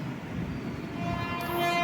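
Indian Railways MGR Chennai Central Mail express speeding toward the small Mayyanad village station in Kerala, a loud steady rumble building as it nears, with a horn tone sounding near the end.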